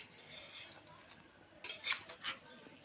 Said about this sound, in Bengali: এটা এরকম করে নেড়ে চেড়ে নিতে হবে ভালো করে।